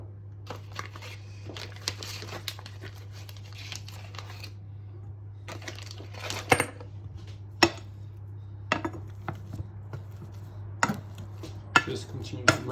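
Mashing boiled potatoes with butter pieces and a pinch of salt, heard as soft irregular squelches and sharp taps of a masher against a pot, close up over a steady low hum, with no talking.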